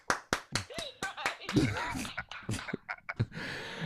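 A few people clapping in a loose, uneven burst of sharp claps, with voices talking and exclaiming over them.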